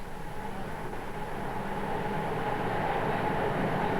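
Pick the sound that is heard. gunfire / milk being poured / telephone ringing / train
train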